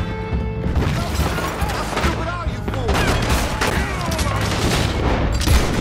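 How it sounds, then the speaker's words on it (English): Gunfire in the video game Red Dead Redemption 2 is loud and close, with dense, repeated cracks and crashing impacts filling the whole stretch without pause. "Warning shot."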